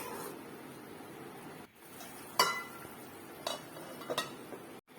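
A spoon stirs horse gram curry in a cooking pot, giving a few sparse metallic clinks and scrapes over a soft, steady background hiss.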